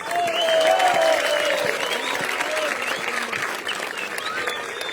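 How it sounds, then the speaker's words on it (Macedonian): Audience at a youth football school tournament awards ceremony breaking into loud, sustained applause, dense clapping that holds steady throughout with crowd voices mixed in. "Ве молам сите за уште еден громогласен аплауз."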